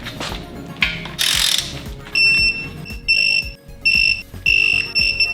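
Ratchet wrench torquing head studs on a Subaru EJ25 engine, several loud bursts of rapid clicking separated by short pauses, close up, with faint mechanical clanks between them.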